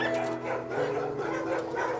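Dogs in shelter pens give off short, overlapping barks and yips, with reverberant whines mixed in, sounding fairly close and continuous over a steady hum.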